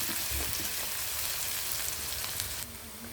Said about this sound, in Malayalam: നമ്മുടെ എണ്ണ ചൂടായിട്ടുണ്ട് അതിലേക്ക് ഞാനിത് ഇട്ട് കൊടുക്കാം ഇനി ഇതിനെ നമുക്കൊന്ന് മൊരിയിച്ചെടുക്കാം